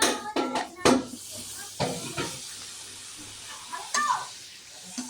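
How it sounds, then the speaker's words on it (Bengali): A homemade besan masala papad fries in hot oil, giving soft sizzling and hiss with a few sharp clattering knocks, heard under intermittent talking. "আমি আরো একটি পাঁপড় ভেজে দেখাচ্ছি।"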